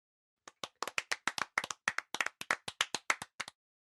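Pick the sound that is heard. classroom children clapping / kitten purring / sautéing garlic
classroom children clapping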